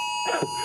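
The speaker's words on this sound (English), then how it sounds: "right now our alarms are going off here to tell us evacuation orders." Evacuation-order alarms sounding during a live news broadcast, a steady high electronic tone running through the whole moment with a brief louder burst of mixed sound in the middle.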